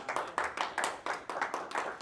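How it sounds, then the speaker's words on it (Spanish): A church congregation clapping in unison, evenly spaced rhythmic claps, roughly four per second and moderately loud, giving a steady beat with faint voices underneath. "Un aplauso a Cristo"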